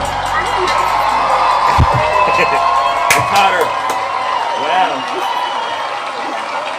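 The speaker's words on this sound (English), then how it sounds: "they're still cheering for you" Crowd cheering and shouting at a comedy show birthday celebration, a sustained roar of voices with whoops, a loud announcer talking over it throughout.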